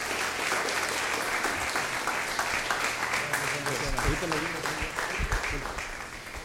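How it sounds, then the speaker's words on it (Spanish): A church congregation gives strong, continuous clapping for the Lord during a service, with some low voices and murmured exclamations mixed into the applause. "¿Le podemos dar un fuerte aplauso al Señor?"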